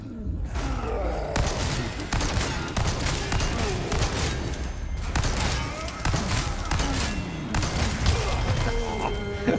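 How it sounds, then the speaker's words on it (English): A shotgun blasts repeatedly in the video game Resident Evil 4 Remake, a dense run of booming shots and impact thuds packed together at loud, close range alongside other game noise. "Should we just annihilate them with the shotgun?"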